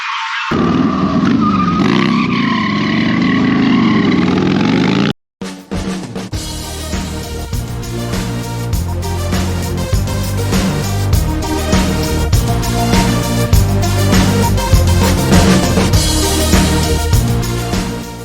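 A vehicle on the road on the way to Daytona bike week, heard from inside as a steady, loud engine and road roar, with a brief cut partway through and music-like tonal layers over it.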